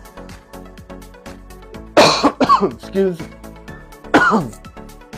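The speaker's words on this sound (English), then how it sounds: "Apologize for the coughing" Someone coughs hard several times in a kitchen while cooking buffalo-style chicken, loud and close, with a brief spoken apology between the fits.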